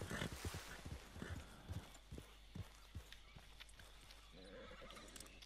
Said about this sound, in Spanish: Hemos encontrado mi caballo.